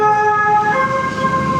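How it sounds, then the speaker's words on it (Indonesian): An ambulance siren wails steadily over rumbling road traffic in a Jakarta traffic jam, loud and close, its tone shifting slightly as it moves past. "Woi, ambulan."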